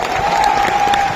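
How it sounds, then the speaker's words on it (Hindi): An audience clapping together in a packed hall, a dense, loud burst of applause heard briefly over a sustained tone. "ताली तो बजा दो।"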